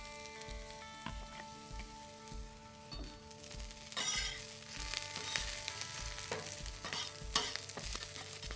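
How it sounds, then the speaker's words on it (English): Onions sizzling on a Wildfire flat top grill set to medium high, a steady frying hiss with rhythmic spatula scrapes and taps, close and continuous, with no talking. "First thing we are going to do is grill up some onions."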